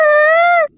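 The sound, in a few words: crying wail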